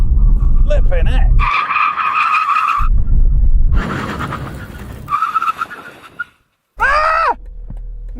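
A BMW 3 Series Touring brakes hard from 100 mph, its tires squealing and skidding in loud bursts with engine noise between, a voice exclaiming over the commotion before it cuts out and a final short squeal.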